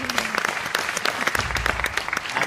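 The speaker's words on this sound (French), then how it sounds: "On peut l'applaudir?" An audience applauds steadily at a French-language talk or seminar, dense close clapping filling the whole short stretch with no voices over it.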